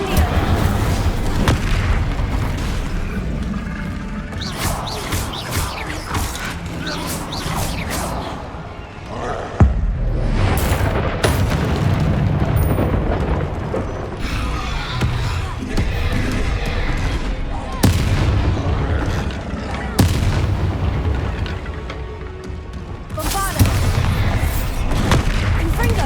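An Incendio fire spell blasts in the Hogwarts Legacy video game, part of a loud, dense battle mix of booming impacts and crackling bursts, with shouted spell voices and combat noise throughout.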